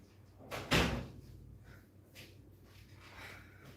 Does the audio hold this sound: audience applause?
no